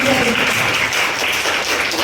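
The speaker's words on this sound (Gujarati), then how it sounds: "તો મેડમ માટે મારે તાળીઓ ઉઘરાવી છે" An audience at a World Disability Day event applauds for a woman being honoured, a dense burst of clapping that fills the short moment alongside a speaking voice.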